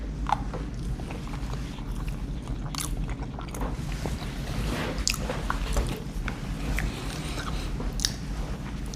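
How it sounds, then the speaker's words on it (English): Close, wet chewing of a Mexican-style rice and bean MRE bowl dressed with powdered hot sauce, soft squishy bites repeating steadily with no talking. "gonna take a bite of it with the hot sauce"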